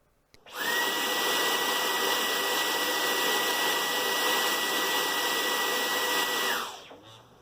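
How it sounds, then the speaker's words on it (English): A shop vac runs alone, switching on to a loud, steady whooshing motor roar with a high whine on top, holding constant for several seconds before winding down. "And a shop vac."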